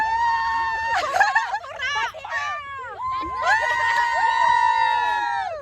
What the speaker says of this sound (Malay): kanan berikan sorakan.